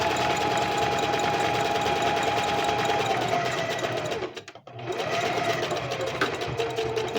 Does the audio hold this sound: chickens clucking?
no